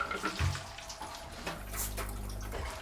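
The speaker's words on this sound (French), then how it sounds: "C'est quoi là cette machine? C'est notre robinet." Water pours steadily from a rudimentary tap into a bucket inside a Mongolian nomad dwelling, a close continuous rushing splash with a brief knock near the start.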